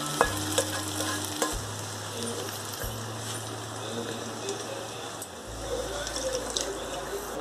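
Fried eggs get stirred into a cashew egg curry, with a close, steady sizzle and repeated scraping stirs over soft background music, and a quiet voice speaking in places.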